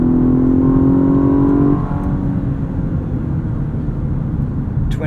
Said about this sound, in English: Twin turbo V6 wailing away there.